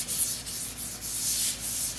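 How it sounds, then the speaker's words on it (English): Hand sanding of a primered car part with folded 320-grit sandpaper, a steady, close, raspy rubbing that runs continuously in back-and-forth strokes with no talk. "for my final sanding, I'll be using 320 by hand"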